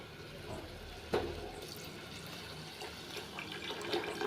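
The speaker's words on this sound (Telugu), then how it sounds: "ఇలా కలుపుకొని వాటర్ యాడ్ చేసేసుకుందామండి. 1 గ్లాసుకి 2 గ్లాసుల వాటర్ వేసుకుందాం." Water poured into rice in a pot for bagara rice, a continuous splashing, running pour with a sharper splash early on, close by and moderately quiet, without speech.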